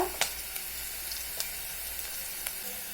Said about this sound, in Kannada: ಈರುಳ್ಳಿ ಚೆನ್ನಾಗಿ ಫ್ರೈ ಆಗಬೇಕು ಈರುಳ್ಳಿ ಇಂಗು ಸ್ವಲ್ಪ